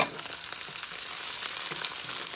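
Whole cinnamon, cardamom, cloves and bay leaf sputter in hot oil with a continuous bright sizzle, close and steady throughout, with no voices.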